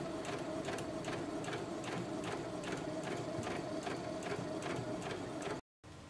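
Sewing machine stitching a full-length cosplay skirt, a steady close mechanical whir with rapid regular needle clatter running continuously, then cutting out abruptly near the end before briefly resuming.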